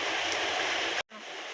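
Rain falls in a dense, steady hiss that cuts off abruptly for a moment, then resumes more softly, close by with no talking.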